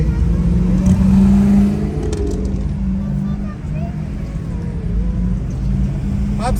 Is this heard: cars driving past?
yes